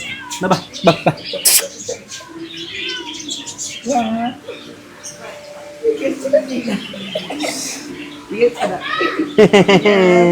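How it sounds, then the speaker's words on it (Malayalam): A Bengal cat meows repeatedly amid a busy mix of chirps, calls and people talking nearby at a pet shop in Kannur, the meows rising and falling in pitch. "Bengal cat Bengal cat"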